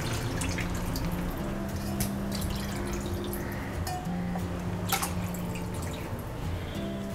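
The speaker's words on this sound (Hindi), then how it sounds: "अब इसमें हम 1 से 3 कप पानी डालेंगे" Water is poured into a spice mixture for spicy Kolhapuri kat vada gravy, a steady faint splashing and trickling under a constant low kitchen hum, with a few brighter clinks along the way.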